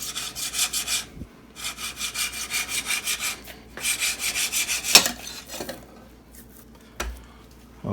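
A knife saws back and forth through meat for jerky on a Cabela's jerky cutting board. It makes rhythmic, raspy strokes in bursts, with a few sharp knocks against the board.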